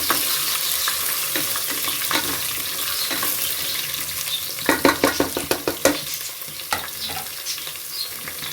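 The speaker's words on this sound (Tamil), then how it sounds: "இஞ்சி நல்லா கொஞ்சம் வதக்கணும்." Ginger and curry leaves sautéing in hot oil for a spicy chicken gravy give a steady close sizzle, with a burst of sharp spatter crackles and scraping stirs partway through.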